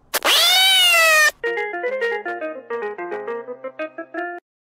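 A person imitates a cat's meow with one loud, drawn-out sliding cry while playing the VTOL VR flight game, followed by a quicker run of tonal, beeping electronic notes.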